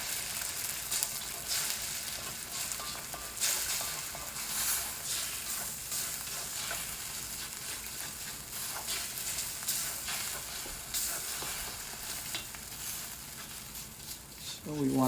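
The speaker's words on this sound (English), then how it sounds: "we'll put in our egg. And we're just going to scramble this egg up" Egg scrambling in a hot pan for shrimp and Chinese sausage fried rice, a steady loud sizzle with stirring scrapes throughout, near and constant.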